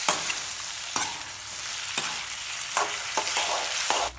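Pirandai sautés in hot oil with a steady sizzle, broken by about five sharp scrapes of a spoon stirring the pan at roughly one-second intervals.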